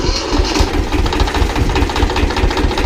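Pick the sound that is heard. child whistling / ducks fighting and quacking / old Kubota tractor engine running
old Kubota tractor engine running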